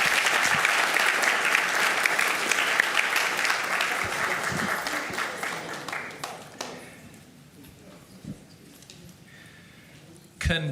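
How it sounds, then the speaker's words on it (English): An audience at a Duncanville school district board meeting gives a dense, sustained round of applause that fades out after about six seconds, leaving a quiet room with a few faint taps. "Let's give them a round of applause as they're coming."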